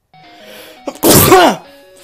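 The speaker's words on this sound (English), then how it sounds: "That was a sneeze." A loud, close single human sneeze bursts out sharply and trails off quickly, set over quiet electronic game music from a Garfield labyrinth video game.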